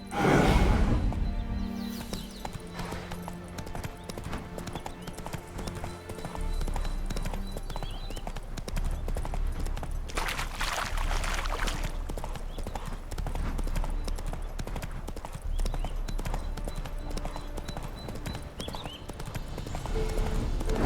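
Horse hooves clip-clop steadily in The Witcher 3 game, a continuous rhythmic trotting under ambient game sound and music, with a brief whinny-like bit early on.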